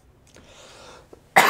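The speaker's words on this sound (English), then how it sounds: "I do try and avoid the coughs, but that one had to happen." A single sharp cough, loud and close, bursts out at the end after a near-silent stretch during a playthrough of the video game Siege of Dragonspear.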